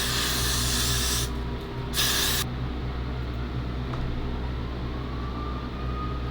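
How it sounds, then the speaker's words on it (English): Pink temporary hair colour hisses from an aerosol can in two bursts, a long one then a shorter one, close up, followed by a quiet room. "So we're gonna spray it again."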